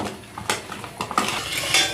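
Fish head being mixed with salt and turmeric in a hill village kitchen, heard as a short run of clinking utensil and dish taps with soft handling noise between them.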